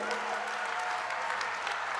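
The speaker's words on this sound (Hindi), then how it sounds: "जोर से बिरला जी के लिए ताली बजाइए भाई।" A rally crowd applauds for the parliament speaker, a dense, steady wash of clapping from a large audience with faint crowd noise, continuous and fairly loud throughout.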